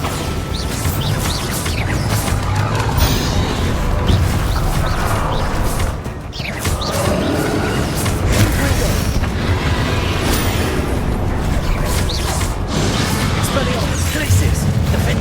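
Magic spell explosions from the Hogwarts Legacy video game, Confringo and Bombarda, boom and crash continuously under a loud voice calling out spells over dense combat noise.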